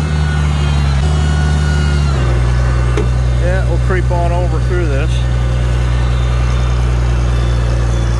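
A Farmall 756 tractor with a four-bottom setup pushing through deep blizzard snow, its diesel engine droning steadily and loudly at low pitch, with someone talking over the running motor.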